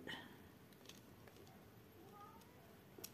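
A pet cat named Bounty meows indoors, a few faint short cries at moderate distance over a quiet room hum, with soft clicks nearby.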